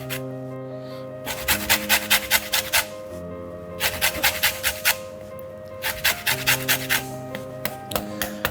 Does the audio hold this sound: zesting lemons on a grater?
yes